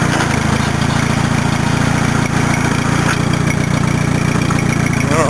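Steady, loud idle of a 67-year-old Allis-Chalmers tractor engine, a close, even low-pitched chugging that continues unbroken throughout.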